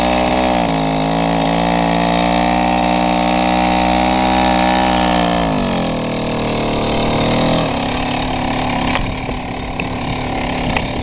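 A Soviet Stella 2.136-02 moped's small two-stroke engine runs and is revved, a buzzing drone that rises in pitch, drops, then climbs again, loud and close with no talk over it.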